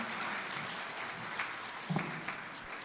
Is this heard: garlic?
no